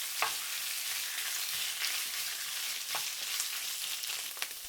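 Bamboo shoots fry in hot vegetable oil over high heat, giving a steady, bright sizzle with occasional soft knocks from stirring, moderately close and with no voices.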